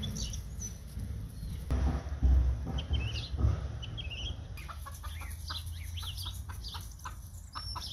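Chickens cluck softly and intermittently on a quiet farm smallholding, the calls faint over low outdoor background noise, with no talking.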